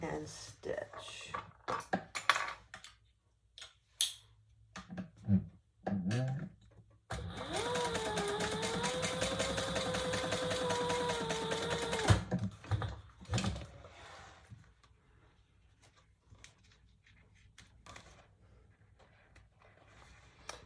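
A sewing machine stitches a purse made from landscaping fabric, running in one steady, even burst of about five seconds with a clear motor whine, framed by quieter handling clicks and rustles.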